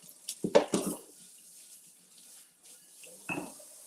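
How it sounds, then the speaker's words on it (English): A dish gets rinsed under a running kitchen tap during zucchini and spinach pie preparation. Short splashes and clatters come early, then a quieter stretch, then another brief splash of water. The sound is moderately close and nobody speaks. "let's rinse this off"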